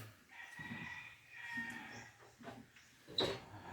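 A mother hen clucks in short, soft bursts near the microphone, with faint rustling and a brief sharper squawk toward the end.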